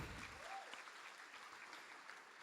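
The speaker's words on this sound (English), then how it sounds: "please give a big round of applause to our Applephenon jelly stick" Applause from an audience, a steady patter of clapping that continues evenly throughout with no talking.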